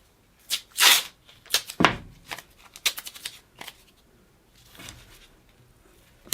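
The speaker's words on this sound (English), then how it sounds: "all we do for now is we just get some tape." A strip of tape is pulled off a roll and torn during a sliding-door handle recess job, heard up close as sharp ripping bursts followed by smaller crackles and taps.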